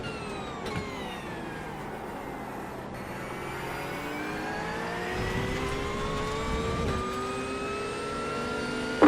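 Race car engines in the iRacing sim-racing game rev and climb steadily through the gears, several overlapping whines rising and falling at close range with a brief bump near the end.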